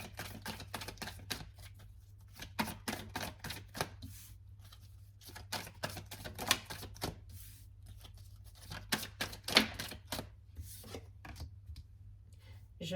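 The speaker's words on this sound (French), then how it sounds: "Je pose les cartes, elles ont un sens hein, quand elles tombent." Tarot cards laid down one after another on a table: a quiet, close run of short dry slaps, flicks and rustles in irregular clusters, with a faint low hum underneath.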